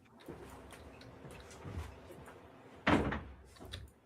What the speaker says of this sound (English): My door just fell.